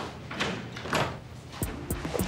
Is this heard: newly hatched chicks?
no